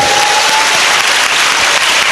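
A church congregation claps in praise, a dense, loud, steady burst of applause filling the whole moment without pause.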